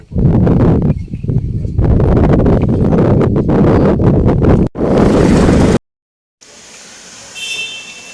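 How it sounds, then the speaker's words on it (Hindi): Heavy wind buffeting and engine rush while riding a motorbike homeward, loud and turbulent with brief dropouts, then a short silence before a quieter stretch of road noise. "अब मैं घर की तरफ लौट रहा हूँ और बाइक से घर की तरफ लौट रहा हूँ।"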